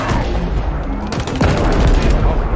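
Slow-firing assault rifle shots ring out in an Xbox shooter game, a loud string of cracking reports with a burst of rapid fire near the middle over dense game noise.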